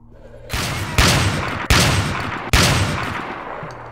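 Shotgun blasts in the game STALKER: Shadow of Chernobyl, with four heavy booms at uneven intervals over about three seconds. Each blast is loud and close and has a short decaying tail.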